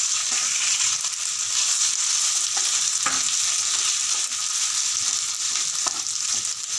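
Aliv seeds soaked in milk are being sauteed in ghee over low heat, a steady close frying hiss with a few faint scrapes of stirring throughout, no voices.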